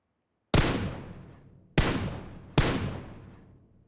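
Three loud, separate gunshots ring out in the mobile battle-royale game PUBG Mobile, each a sharp crack with a long fading echo, spaced roughly a second apart with no talk.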